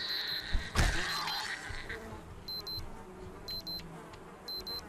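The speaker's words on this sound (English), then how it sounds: "What is beeping? Is it this one?" Repeated electronic beeping in the video game Project Zomboid, three evenly spaced short double beeps over a faint background hum, following an earlier thump.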